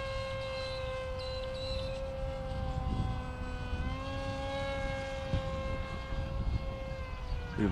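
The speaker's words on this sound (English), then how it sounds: "Now this motor has a lot of power. I'm only going 3/4 throttle here" A modified Bixler 2 RC plane with an NTM motor and a 7x4 propeller flies past at about three-quarter throttle. Its high, steady electric whine drones on and shifts in pitch slightly as it passes.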